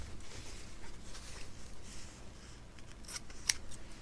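Scissors snip through blue stash fabric for a scrappy log cabin quilt block, a soft close crunch of blades cutting cloth with a sharper final snip near the end, heard alone in a quiet room.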